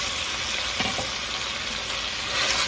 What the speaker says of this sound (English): and just saute them